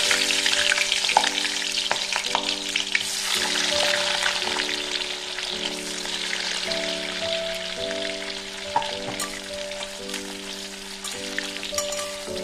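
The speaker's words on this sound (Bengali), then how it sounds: "এবার তেল গরম হয়ে গেছে লেবুগুলো দিয়ে দেবো" Lemons fry in hot mustard oil in a pan, giving a steady, close sizzle and crackle with occasional stirring, while gentle background music plays throughout.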